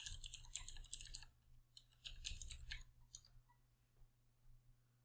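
Fingers type on a computer keyboard in quick bursts of light clicks, a web address being entered, then a pause and a few scattered keystrokes, quiet and close with no voices.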